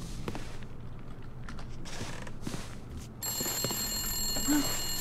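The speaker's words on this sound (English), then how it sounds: "The phone is ringing." Telephone ringing in The Long Dark video game, a repeated bell-like ring starting partway through and continuing steadily to the end over a creaky, low ambient background.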